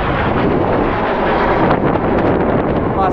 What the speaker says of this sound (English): That's the first time a jet's gone over.